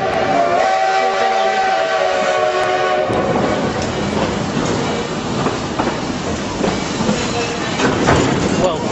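A narrow gauge steam train, the Eureka, sounds its whistle loudly for a few seconds, then rumbles and clatters close by over the track with rhythmic clanking; faint voices mingle in the noise.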